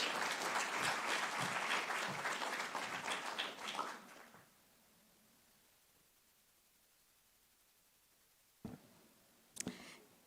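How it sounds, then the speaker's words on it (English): A large audience at an African education conference welcomes a speaker onto the stage with loud, dense applause for about four seconds before it fades to near silence, followed by a couple of brief knocks. "With a very big round of applause, please help me welcome her up on stage."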